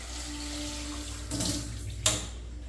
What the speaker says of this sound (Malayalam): ഇതിലേക്ക് നമുക്ക് കുറച്ച് വെള്ളവും ഉപ്പും കൂടി ചേർത്തൊന്ന് വേവിക്കാൻ വെക്കാം